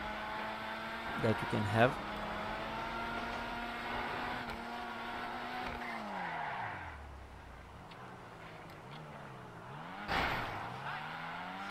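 A Weeny Issi Sport compact hatchback in GTA 5 Online revs hard, its engine tone climbing through several gear shifts and dipping between them, while someone speaks briefly over it.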